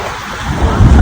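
A river runs at a cloudy mountain spot in Arunachal Pradesh under light drizzle, giving a dense rushing wash of water that grows stronger and lower toward the end of one brief second.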